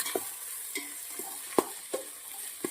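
Vegetables for a healthy Manchurian sizzle and fry steadily in a pan, with a few sharp stirring clinks and scrapes spaced through the short stretch, no voices heard.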